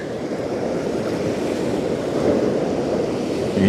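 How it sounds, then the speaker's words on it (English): Wake from a passing container ship washing onto the shore of the Westerschelde, a steady broadband surf wash with wind noise on the microphone, continuous and fairly loud throughout. "The waves you hear now are the wake of the container ship crashing on the shore."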